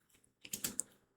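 Brief, faint clicks of typing on a computer keyboard, a short cluster of keystrokes with a few sharper taps.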